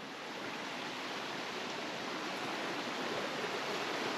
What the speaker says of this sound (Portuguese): esse barulho de água no meio do mato